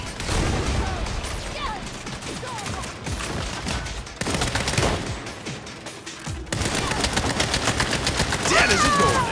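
Sniper gunfire in the Saints Row video game, repeated sharp shots and rattling bursts over several seconds, loud and close, with game voices briefly underneath.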